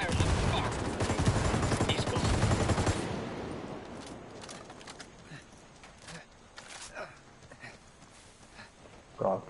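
Rapid automatic gunfire in Ghost Recon Wildlands PVP rattles loud and dense for about three seconds, then breaks into scattered, fainter shots and clatter, with voices calling out.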